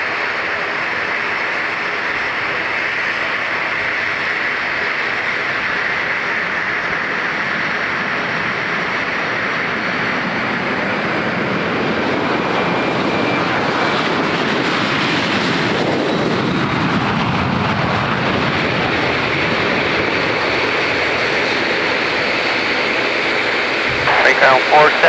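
American Airlines Boeing 737 taking off from La Aurora airport in Guatemala, a steady broad jet roar that swells and rises in pitch midway, heard from nearby with wind buffeting the microphone.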